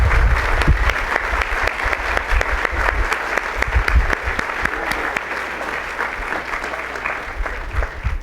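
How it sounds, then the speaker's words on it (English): Audience at a dedication ceremony for an oral health care and research center clapping steadily, a dense sustained round of applause from a sizable crowd filling the room. "We owe these two gentlemen a big round of applause"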